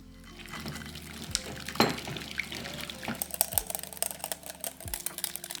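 Frosting of vanilla extract, powdered sugar and milk being mixed for cinnamon rolls, with scattered utensil clinks and soft wet scraping in a quiet kitchen.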